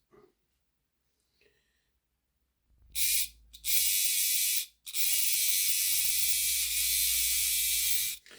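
A Hornby R751 Class 37 model locomotive's motor runs noisily with a steady high whirring buzz, starting after a quiet pause and cutting out briefly twice before running on, loud and close.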